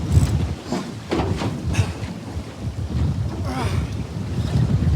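Strong wind buffeting the microphone in low rumbling gusts, with water and boat noise underneath and no talking, on a fishing boat.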